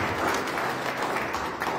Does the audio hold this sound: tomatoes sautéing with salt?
no